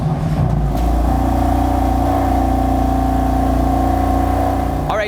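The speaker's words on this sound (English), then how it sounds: "This is a cold start on my 2016 bone stock, except for boot mode," A stock 2016 BMW F80 M3, stock apart from boot mode, starts from cold: a loud, close, steady high idle with a deep droning engine note, after a brief initial startup flare.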